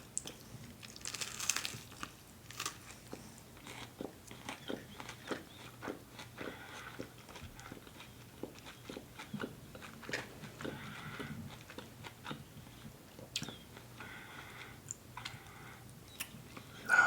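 Crunchy Taco Bell food being bitten and chewed close to the mic, with repeated crisp crackles and bites scattered irregularly over soft background noise.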